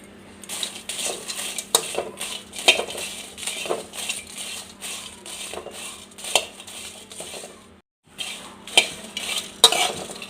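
Pepper, garlic and turmeric frying in a pan for a Mangalore-style village fish curry, with a spoon repeatedly scraping and clinking against the pan over a steady low sizzle, briefly pausing near the end.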